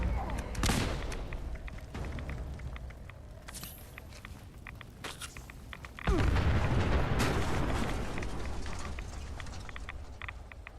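Car explosions in a Fallout video game come as sharp scattered cracks and bursts, then one loud, heavy blast that roars and slowly fades.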